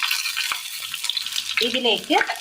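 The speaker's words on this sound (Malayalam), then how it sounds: "കടുക് ഒന്ന് പൊട്ടിക്കഴിയുമ്പോൾ അറ്റം പിളർന്ന പഴുത്ത മുളക് ഇട്ട് കൊടുക്കാം" Oil sizzles and spits as spluttering mustard seeds and split ripe chillies fry in a pan, a close crackling hiss with a brief voice-like tone near the end.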